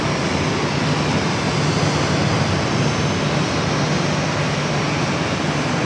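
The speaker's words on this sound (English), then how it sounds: "A319 coming in from Tucson, American 1934." An American Airlines Airbus A319 arriving at Phoenix airport on a short flight from Tucson, heard as a steady, loud, broadband jet roar with a low engine hum that holds evenly throughout.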